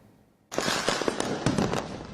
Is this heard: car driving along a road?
no